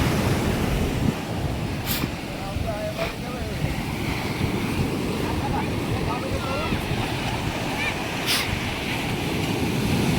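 A stormy sea rolls in without pause, a broad, continuous wash of surf at a Ganesh immersion on the coast, with gusty wind rumbling across the microphone throughout.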